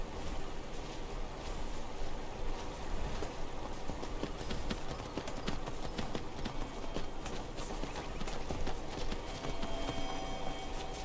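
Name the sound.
horse hooves clip-clopping, from a video game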